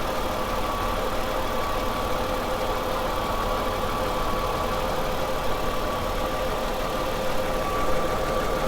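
A Ford Escape engine runs at a steady high idle while warming up with a P1506 fault, an even close hum with a faint whine and no speech.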